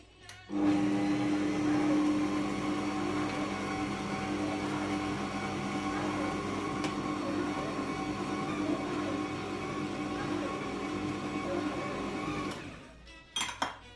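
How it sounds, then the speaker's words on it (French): An electric mixer runs steadily for about twelve seconds, mixing flour for matlou3 bread dough; a loud even motor whine with a constant hum starts abruptly, then stops near the end with a few clunks. "Je vais mettre la marche pour mélanger la farine"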